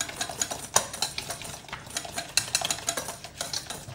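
Powdered sugar being hand-stirred into a swiss roll icing mixture, giving a steady run of close, scraping and clinking stirring strokes with a few sharper knocks against the bowl, and no voices.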